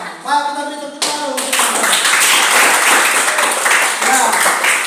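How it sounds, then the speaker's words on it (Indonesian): Students in a classroom clap together in a dense, steady round of applause that follows a teacher's spoken cue. "Baik, kita beri tepuk tangan."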